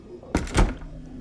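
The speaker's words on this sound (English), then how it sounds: "He shut the door behind them with a quiet, damning click." A door shuts with a short muffled thunk and a soft latch click, one quick closing sound against a quiet room, with no talking.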